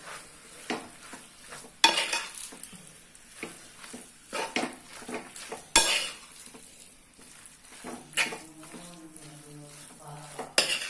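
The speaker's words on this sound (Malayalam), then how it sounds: "നന്നായി ഇളക്കി യോജിപ്പിക്കാം" A spoon stirs boti curry in a pan, scraping and clinking at an irregular pace under a soft, steady sizzle, fairly faint and with no voices.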